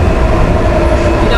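A train rumbling loudly past at close range in Washington D.C., a constant heavy roar of wheels and cars with no break.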